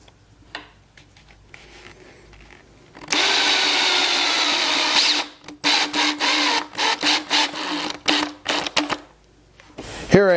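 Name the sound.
power drill pre-drilling holes with a countersink bit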